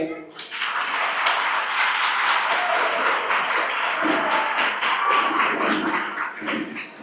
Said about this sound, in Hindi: अब तालियां बरोबर नहीं बजाते, बजाओ तालियां